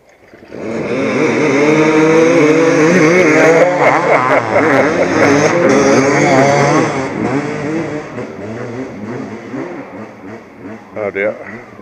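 A pack of dirt bikes roars off the line together at the start of a three-hour mud race, engines revving hard and loud up close, then thinning out as the riders pull away.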